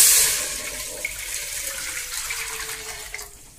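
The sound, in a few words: thin coconut milk poured into a heated pot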